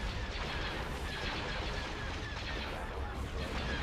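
Ship cannons fire in a space battle in the Star Wars: Empire at War strategy game, a dense, continuous barrage of blasts and booms that stays loud and steady throughout.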